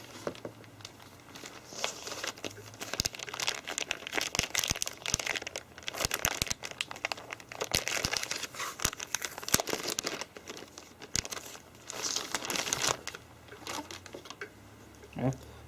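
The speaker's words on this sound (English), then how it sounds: "We can unwrap our new LCD." New laptop LCD screen being unwrapped from its packaging, with steady close crinkling and rustling of plastic wrap throughout, occasional sharper crackles, and faint background hum.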